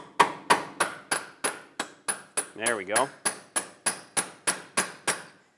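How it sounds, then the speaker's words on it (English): A hammer taps a punch to lock the hub of a 2008-2012 Honda Accord during front lower control arm work, giving about fourteen evenly spaced, sharp metallic strikes, close and loud, with a brief voice partway through. "Use a punch and a hammer, tap it in."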